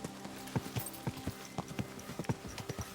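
In Kingdom Come: Deliverance II, a ridden horse's hooves clip-clop in a steady, close rhythm of distinct thuds on firm ground.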